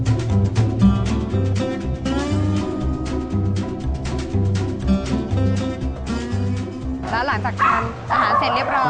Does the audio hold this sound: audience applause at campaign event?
no